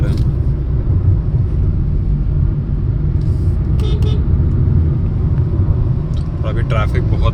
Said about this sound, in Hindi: अभी ट्रैफिक बहुत बढ़ गया है